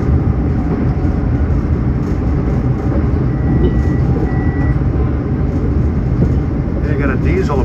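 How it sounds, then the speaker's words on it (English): A diesel train approaching on a Long Island railroad line, a loud continuous low rumble and rail roar heard from on board another train, with a faint high whine near the end. "They got a diesel approaching"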